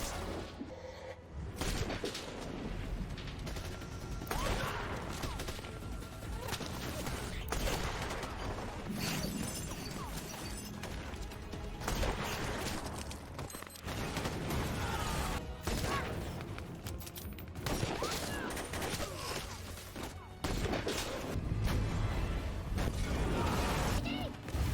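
Gunfire and crashing impacts from a movie fight between snipers, dense bursts of shots and smashes recurring steadily over a constant loud action score, with no voices.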